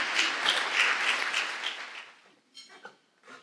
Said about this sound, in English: So let's give a round of applause for this panel that you're going to hear from.